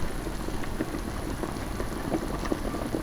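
Goulash simmering in a pot makes a soft, continuous bubbling with scattered small pops, fairly quiet and close, with no talking.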